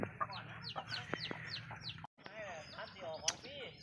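Chickens cluck and chatter repeatedly, close by, with a brief gap midway, then more clucking and a sharp squawk.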